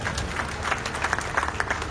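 Crowd at a Karni Sena maha panchayat gathering in Rajasthan clapping, a brief burst of scattered, fairly close applause with uneven rhythm.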